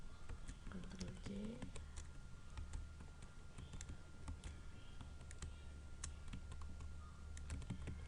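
Quiet, rapid clicking of a computer keyboard while copying in Excel, a steady patter of light keystrokes with a few sharper taps over a low background hum.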